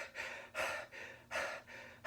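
A voice imitates heavy, hard breathing after a fight with a monster, in a Samurai Jack review: a few loud, rhythmic gasping breaths, close and alone, with no talk over them.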